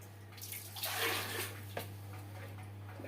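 Water splashes and sloshes inside a water tank being cleaned, in a few short bursts over a constant low electrical hum, fairly faint and close, with no talking.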